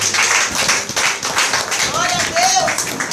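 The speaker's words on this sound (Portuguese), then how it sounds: "aplauda o Senhor pela vida do seu lado" A church congregation clapping in praise during a worship service, dense sustained applause throughout with singing or voices mixed in.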